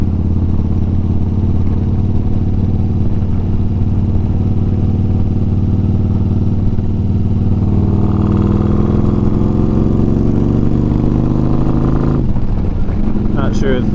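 A built 2009 Harley-Davidson Road Glide motorcycle rumbles at close range, its engine and exhaust holding a deep steady throb before climbing into a stronger rev near the end. A voice talks over it.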